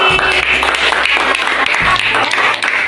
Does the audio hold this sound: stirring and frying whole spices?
no